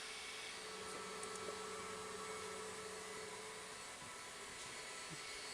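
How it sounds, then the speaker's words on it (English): Steady whooshing hum of a Two Trees air assist compressor running during laser engraving on a TTS 20 Pro, continuous and even, fairly faint, with no talking. "this time I'm gonna do it with their compressor"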